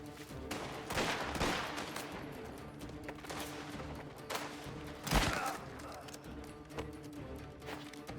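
Gunfire in the video game Mafia: The Old Country: several sharp, echoing shots in a ragged sequence, with clattering movement between them and a voice speaking over the action.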